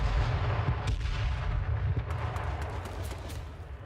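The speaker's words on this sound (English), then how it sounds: "Hydra's throwing a grenade right on him" A grenade blast during a video game match sets off a deep, rolling rumble, with sharp gunfire cracks and booming bursts heard from mid-distance over a continuous low roar.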